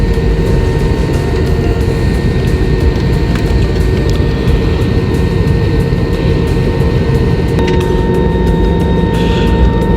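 An airplane waits at the end of the runway before takeoff, with a loud, steady, low engine rumble and a constant whine heard from inside the cabin.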